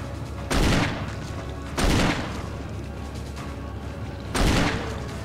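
Three loud, booming gunshots from the Resident Evil Remake video game, spaced a second or more apart, each a sharp broadband blast with a short decaying tail over a low ambient game backdrop.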